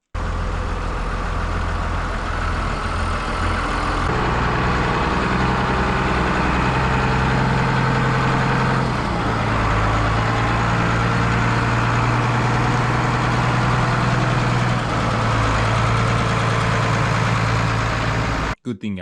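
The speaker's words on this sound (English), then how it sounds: "So he came with his tractor." A tractor engine idles nearby at a home driveway, a loud steady low diesel rumble that shifts pitch slightly partway through before cutting off abruptly at the end.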